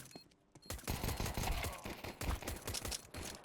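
Rapid gunfire in the tactical shooter Counter-Strike 2, a dense run of sharp shots and clattering bursts at moderate loudness over about three seconds.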